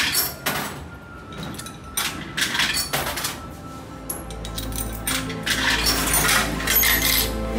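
A coin drops and clinks, with several bright metallic rattles and rings as it settles, close and clear, no talking.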